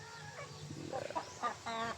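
Chickens cluck and murmur close by near a hut, a few short clucks rising over faint background hum.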